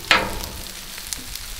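Chicken and cashews fry in a pan for Kung Pao cashew chicken, a soft sizzle with a brief louder crackle at the start and a couple of faint taps later.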